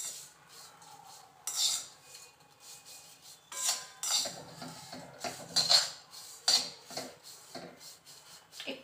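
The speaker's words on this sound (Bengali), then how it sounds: "সমানে নাড়তে হবে, নাহলে নিচটা কিন্তু লেগে যাবে।" Metal spatula stirring and scraping food frying in a pan over low heat, with repeated scraping strokes and clinks in an uneven rhythm, close and moderately loud, no talking.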